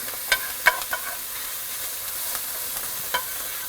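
Capers sizzling in hot oil in a pan, pressed down with a spoon, giving a steady close crackle broken by a few sharp scraping clicks, with no talk.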